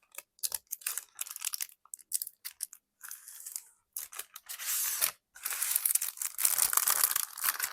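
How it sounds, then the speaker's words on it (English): Paper journal page being folded and creased by hand, a close, quiet series of crisp crinkles, rustles and scrapes in short bursts with brief pauses, no talking. "And then I usually fold this over."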